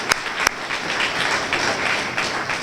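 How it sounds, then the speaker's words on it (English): Audience applause at a university ethics awards event, steady crowd clapping with a couple of sharp nearby claps standing out. "let's give Chief Judge Ingrid Driskell another round of applause"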